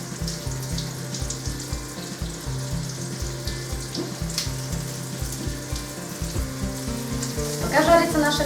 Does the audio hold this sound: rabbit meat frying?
yes